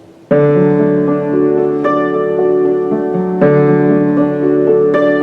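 A hammered dulcimer rings out a quick arpeggio, struck notes blending into a bright, sustained shimmer that repeats in a steady pattern.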